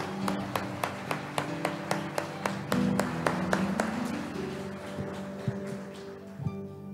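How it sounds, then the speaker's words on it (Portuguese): A church congregation claps in a steady, evenly spaced rhythm, crisp beats repeating about every third of a second over sustained organ-like musical tones, with one brief swell in the middle. "Aplauda de verdade a Ele"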